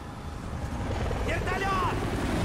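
A helicopter in Call of Duty: Ghosts thrums steadily with rotor noise, layered with battle sounds and a brief whistling whine, as someone speaks over it.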